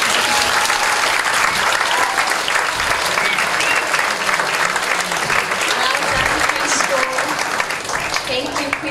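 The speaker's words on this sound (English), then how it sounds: "give them a big clap" Loud, sustained applause and crowd noise in a school chapel for preschool children, dense clapping holding steady for nine seconds with voices mixed into the crowd.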